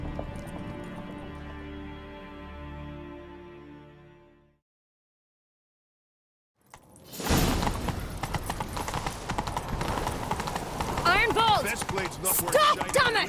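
Hooves of a horse gallop in a rapid, steady clatter, loud and close, after a stretch of low musical tones and a brief silence, in the video game The Witcher 3.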